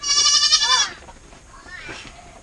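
A young goat being roped and bagged on an off-grid homestead gives one loud, close, wavering bleat, followed by a fainter second cry after a pause.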